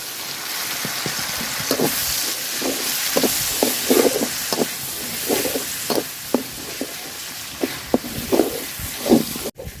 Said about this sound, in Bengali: মশলাটা তেলের সাথে খুব সুন্দর করে ভাজিয়ে নিচ্ছি